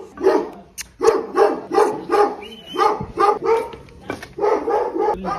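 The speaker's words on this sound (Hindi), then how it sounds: "भाई कुत्ता खतरनाक है ये" A dog barks repeatedly outdoors at night in rural Himachal, a loud, close series of sharp barks in quick bursts with brief pauses between them.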